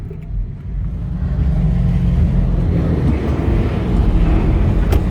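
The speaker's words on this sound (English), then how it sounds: "Them boys revving these things up, innit?" Car engines rev at a chilly nighttime car meet, a steady loud low rumble with rising surges throughout, close by, with wind buffeting the microphone and no talking.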